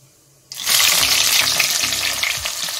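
Cumin seeds dropped into hot oil in a pan while cooking a brinjal curry burst into a loud, steady sizzle after a quiet half-second start, crackling continuously without any talk.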